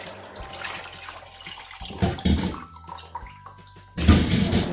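Soaked dried okra being washed in water, with splashing and running water swishing in bursts, close and loud, growing stronger toward the end, with no speech.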